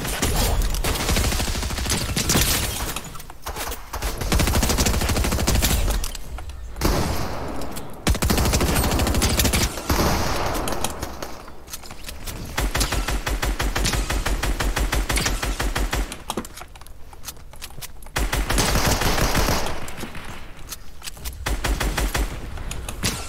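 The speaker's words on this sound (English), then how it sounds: "Oh, they're trying to shoot at me, bro." Loud, sustained gunfire from a Fortnite match, with rapid bursts and volleys of shots rattling almost continuously, broken by a few short pauses between exchanges.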